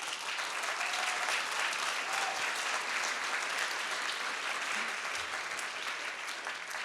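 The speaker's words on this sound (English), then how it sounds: "And a big round of applause for Stephen." Steady, even applause from an audience at a talk on pro-Palestine activism greets a speaker, a continuous wash of many hands heard from some distance, fairly soft throughout.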